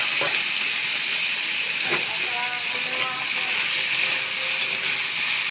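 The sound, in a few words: potatoes frying in oil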